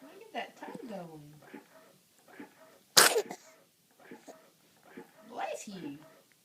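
A dog gives one sharp, loud sneeze partway through, standing out against soft, quiet talking by people before and after it.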